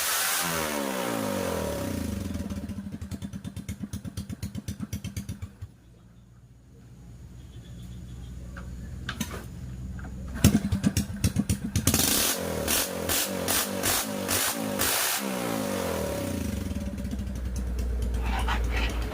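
Repaired motorcycle engine started up and left running, with uneven sputtering idle, a brief lull, then louder rapid revving and popping up close.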